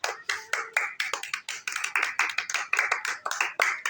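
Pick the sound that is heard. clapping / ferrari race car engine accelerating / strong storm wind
clapping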